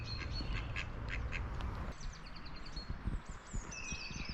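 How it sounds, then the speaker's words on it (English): Ducks quacking on the Monmouthshire and Brecon Canal at Llangynidr locks, a pair calling in short repeated bursts nearby, with bird song and soft outdoor ambience behind. "Mr. and Mrs. Duck are coming to say hello to Mr."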